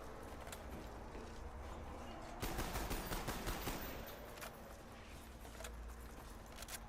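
Video game M14 rifle fire, a quick burst of sharp repeated shots in the middle over a constant hum of game ambience, with a few scattered single shots before and after.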